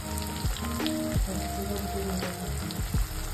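Onions frying in hot oil until golden brown for Solapuri tur dal kanda, a continuous close sizzle and crackle with a few scraping stirs of the pan.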